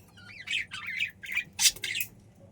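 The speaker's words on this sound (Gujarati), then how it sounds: "આ બાજુ જો તો ચકલાનો અવાજ આવે છે" Sparrows chirp and twitter in a quick burst of several calls, close and clear over a low background hum.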